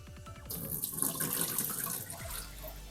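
Water splashes as it is poured out of a black worm culture container, a short close gush that starts abruptly and runs as a continuous splashing trickle before tapering off.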